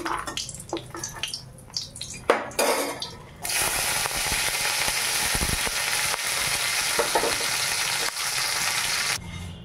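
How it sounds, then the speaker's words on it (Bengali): Raisins fried in oil in a wok while making chire pulao: after a few scattered clicks and stirring knocks, a loud, steady sizzle erupts and continues close up. "বাদামটা ভাজা হয়ে গেছে, এবারে কিশমিশটা ভাজবো। কিশমিশটা দিয়ে দিচ্ছি।"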